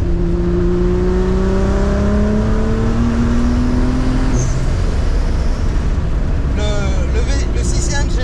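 Scania truck with a V engine and custom exhaust revving hard, a loud, close, deep roar whose pitch climbs steadily for several seconds, then briefly drops and rises again with a higher whine near the end.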